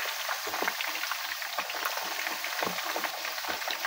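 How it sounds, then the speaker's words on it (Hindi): Chicken Manchurian pieces frying in oil on a medium flame, a steady close sizzle with crackling pops throughout, no talking. "इसको मीडियम फ्लेम पे आपने फ्राई करना है और 3 मिनट बाद इसकी साइड पलटनी है"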